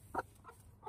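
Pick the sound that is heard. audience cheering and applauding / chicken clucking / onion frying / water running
chicken clucking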